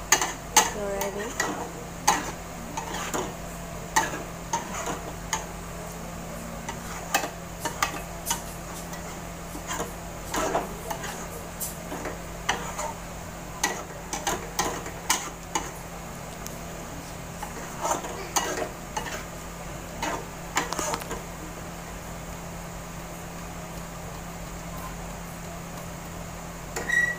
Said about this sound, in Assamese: কণীখিনি দি অলপমান লৰাই দিম